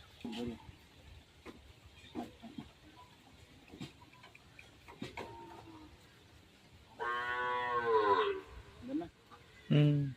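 A calf moos in one clear, drawn-out call near the end, fairly close, amid scattered farmyard knocks and bits of talk.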